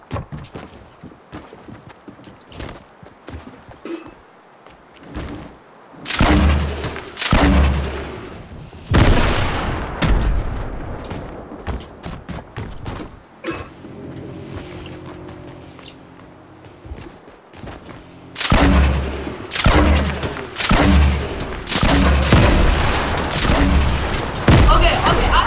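Gunfire in the video game Fortnite: bursts of loud rapid shots and booming blasts in several clusters, separated by quieter stretches of footsteps, with players talking throughout.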